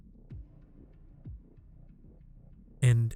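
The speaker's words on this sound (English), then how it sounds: "And then you hear a heartbeat. And another heartbeat." A heartbeat sound effect plays as slow, deep, muffled thumps, each one a soft low pulse spaced about a second apart over a faint hum, ending in a sudden louder tonal burst.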